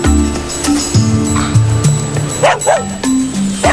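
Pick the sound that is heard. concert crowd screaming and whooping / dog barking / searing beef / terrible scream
dog barking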